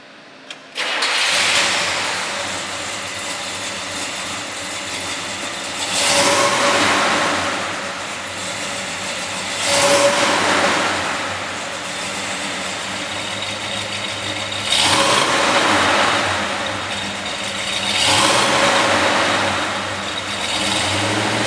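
A 1967 Chevelle SS396 V8 in a convertible cranks and fires up, then settles into a steady idle broken by four loud, swelling revs spaced several seconds apart, heard close with no talking.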